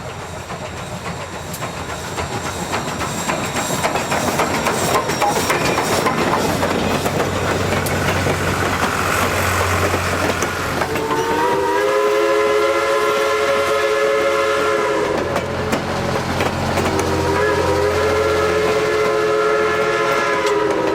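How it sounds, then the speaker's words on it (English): Southern 154 steam locomotive hauling an excursion train into downtown Knoxville, its steady rumbling run loud and close, with a long multi-tone steam whistle sounding twice in the second half. "Coming around the corner with a full head of steam, the 154 leads the excursion train into downtown Knoxville"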